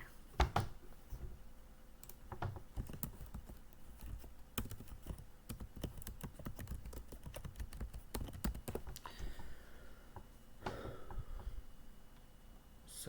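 Rapid typing on a computer keyboard, a steady stream of close, crisp key clicks with occasional heavier keystrokes and brief pauses, no talking.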